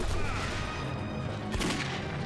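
Gunfire in Clive Barker's Jericho: a dense, continuous barrage of shots and crashes with a sharp burst near the end, loud and close.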